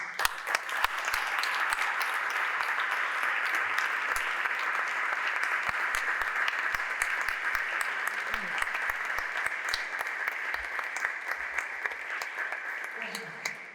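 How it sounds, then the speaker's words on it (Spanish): Conference audience applauding, a dense, sustained wash of many hands clapping at steady loudness that tapers slightly at the end. "Así que os pido un aplauso para todos ustedes"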